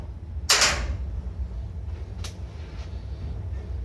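A newly fitted wardrobe door in a new apartment shuts with a sharp knock, followed by a couple of fainter clicks against a low room hum.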